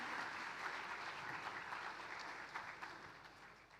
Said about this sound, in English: Let's have the loudest round of applause